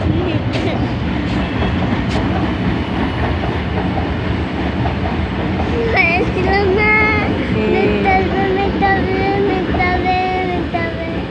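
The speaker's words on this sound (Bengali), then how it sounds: "মেট্রো আসছে" A metro train passes close by: a loud, continuous rumble and rattling clatter of wheels, with a high tonal whine rising in the second half.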